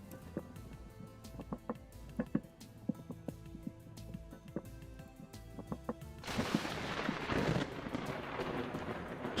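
Thunder from lightning in the survival video game Vintage Story, a deep rumble swelling after a run of sharp clicks and knocks, followed by louder rain-like hiss near the end.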